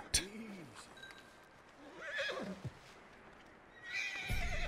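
A horse whinnies in the video game Red Dead Redemption 2, a near, rising-and-falling neigh at the start followed by quieter snorts and a few hoof sounds, with no voices over it.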